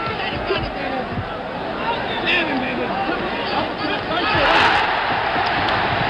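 A boxing crowd roars through the 1977 George Foreman vs Jimmy Young fight, a dense, loud, continuous wall of cheering that swells near the end, with a commentator talking over it.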